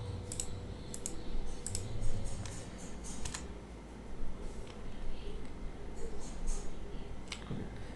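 Quiet, irregular clicking of keys on a computer keyboard, tapped in short runs with small pauses, close and fairly soft.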